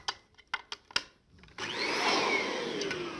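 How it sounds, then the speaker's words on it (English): A canister vacuum cleaner runs with its hose fitted to the blower end and the air intake guard on the front, starting with a few sharp clicks and knocks before the motor whooshes up into a steady, loud roar. "Using air, hose on the blower end, air intake guard on the front."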